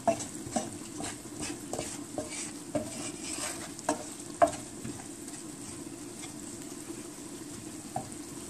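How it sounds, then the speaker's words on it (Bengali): Ground spices sizzle softly in hot oil with golden-brown onions in a pan, with repeated quiet scrapes and clinks of a spoon stirring at a slow, uneven rhythm. "পেঁয়াজ গোল্ডেন ব্রাউন হয়ে গেছে এখন লাড়মু লাড়ি আস্তে আস্তে গুঁড়া মশলা দিলাম একটু হালকা ফ্রাই করলাম"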